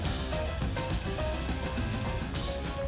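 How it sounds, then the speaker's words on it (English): Onion sizzles steadily in hot olive oil in a pan, a continuous dense crackle and hiss with no pauses, close and fairly loud, with no voices. "Once hot, we add the onion."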